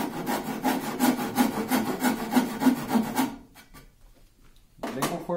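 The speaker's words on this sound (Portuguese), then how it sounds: "faz um pequeno cortezinho com o serrote" Hand saw cutting a reclining wooden chair leg in rapid, even back-and-forth strokes for about three seconds, then a pause and the start of another stroke.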